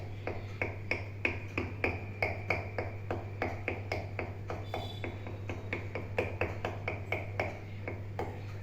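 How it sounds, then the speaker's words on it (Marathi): A fork repeatedly pricks homemade pizza dough, giving a steady run of quick, close taps at about two to three per second over a constant low hum. "हा काटा चमचा घ्यायचा याने याला अशी टोचे मारायची"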